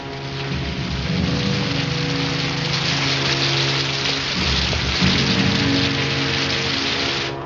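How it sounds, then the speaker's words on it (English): Steady, heavy rain hissing down continuously, loud and close, with a low background rumble and no talking. "I told you it was going to rain"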